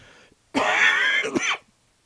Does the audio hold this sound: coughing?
yes